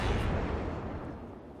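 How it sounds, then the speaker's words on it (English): A warship's gun salvo fires in the World of Warships naval game, a single loud, heavy booming blast that rolls off and decays over under two seconds. "I don't know why I fired that salvo"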